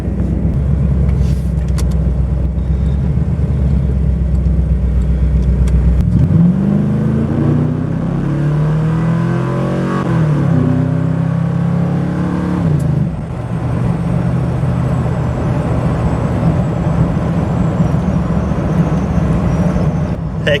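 An old truck's engine revs and drones loudly from inside the cab while driving, a low steady rumble that climbs in pitch through a gear change midway and settles back into a heavy roar.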